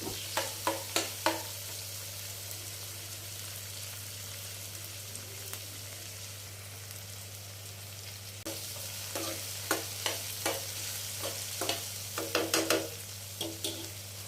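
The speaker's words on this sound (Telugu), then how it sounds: "హాఫ్ టేబుల్ స్పూను అల్లం వెల్లిపాయ పేస్ట్ వేసుకుందామండి. అది పచ్చివాసన పోయే వరకు వేపుకుందాం." Half a tablespoon of ginger garlic paste fries with onions in a pan, a soft steady sizzle under a low hum, broken by clusters of light spoon scrapes and taps near the start and again toward the end.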